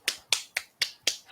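Hands cupping and patting down the outside of an arm in a self-massage movement practice: five crisp, evenly spaced pats, close and clear with no talk.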